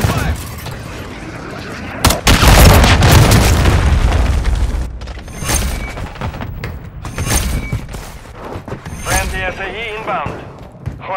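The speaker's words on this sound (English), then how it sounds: "Throw a grenade!" A grenade explosion in Call of Duty: Modern Warfare 3 multiplayer, one loud booming blast with a rumbling tail, surrounded by gunfire and in-game voices.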